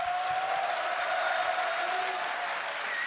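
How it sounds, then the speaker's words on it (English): Applause fills a League of Legends World Championship 2015 esports arena after OG vs LGD, a steady, moderately distant clatter of clapping that continues evenly throughout. "And receiving the applause from the guys here as well."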